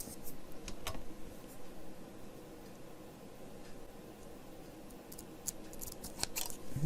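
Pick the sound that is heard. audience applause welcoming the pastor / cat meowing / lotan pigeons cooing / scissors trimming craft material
scissors trimming craft material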